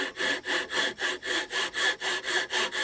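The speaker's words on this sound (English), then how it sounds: "saw very carefully, keeping the saw upright down to the pencil marks" A Japanese hand saw cuts through wood for a carved spoon, giving about a dozen steady, even rasping strokes, close and alone.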